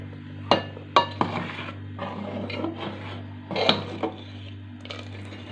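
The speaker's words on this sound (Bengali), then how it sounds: "চিনিটা দিয়ে আঁচটা একদম কম ফ্লেমে করে দিয়ে আমি নাড়াচাড়া করে দিচ্ছি মাঝে মাঝে" Bengali payesh rice pudding being stirred in a pot over a low flame, close soft scraping and rubbing of a spoon against the pot, with occasional clinks over a steady low hum.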